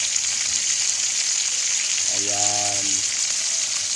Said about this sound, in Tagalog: Magpiprito tayo ng isdang